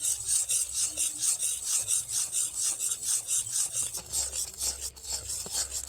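Repeated scraping strokes of a spoon stirring thickening banana jaggery in a pan, a close, rhythmic rasping about twice per second, alone without talk.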